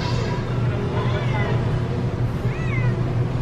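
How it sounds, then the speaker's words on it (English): A cat meows a couple of times over a murmur of background voices and indoor noise inside a pet store. "Someone's meowing"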